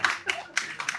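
A couple of people clap briefly at a Tamil gathering, four or five sharp, separate hand claps spaced irregularly, fairly close and unaccompanied by talk.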